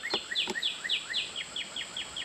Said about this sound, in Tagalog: Ano lang ibon. Sarap pakinggan.